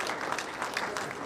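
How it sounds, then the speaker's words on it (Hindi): Dense audience applause at a Hindi-language entrepreneurs' organisation event, greeting a newly announced winner; steady and fairly close, filling the whole short stretch without a break. "जोरदार तालियों के साथ इनका स्वागत करेंगे।"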